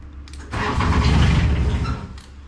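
Cold engine of a Giant 1200tele loader cranking and catching, running loud and rough for about a second and a half before dying back down, with a short click at the end.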